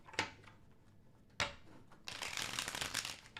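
Two sharp riffles of tarot cards snap close by, then a longer flurry of the cards being shuffled, crisp and rapid.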